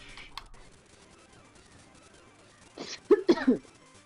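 Someone coughs indoors during a Pokémon Radical Red gaming session: a short burst of two or three close, throaty coughs near the end after a mostly quiet stretch, with a faint voice-like sound at the start.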